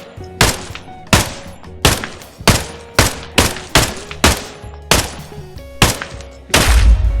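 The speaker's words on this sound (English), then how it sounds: "12 shots to the chest there." Twelve single 9mm PSO gunshots striking chest armor in the shooter Exfil Zone, each a loud sharp crack spaced roughly half a second apart, evenly paced and alone.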